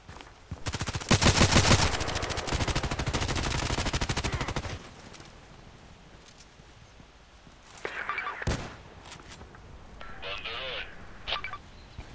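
Hip-fired automatic gunfire in the Contract Wars video game comes as a loud rapid burst of about four seconds, followed by quieter stretches with a few isolated shots and game sounds, while someone talks.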